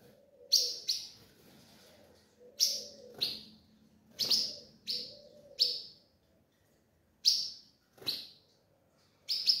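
Two ultramarine grosbeak (azulão) chicks make short, high chirps in spaced bursts, each paired with a faint lower note, close and fairly quiet.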